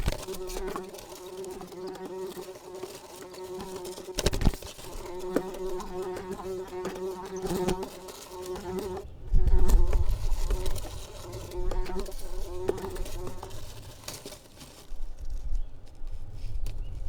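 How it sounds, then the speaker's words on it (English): Insects buzz steadily inside a swallow nest box with young chicks, a continuous close drone with occasional bumps and knocks against the box walls and a heavier thump partway through. "sometimes they get a few freebies when insects have the misfortune of entering their box."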